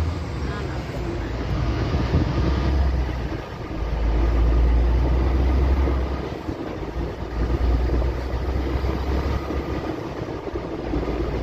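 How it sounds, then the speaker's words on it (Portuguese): A train rolls past near a highway crossing into Tocantins, a loud, continuous rumble that swells and eases over several seconds, with a deep low throb throughout. "Ela mostra o trem, né?"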